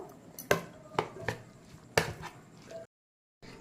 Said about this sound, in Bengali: এবার এটা আমি খুব ভালো করে মিক্সড করে নেব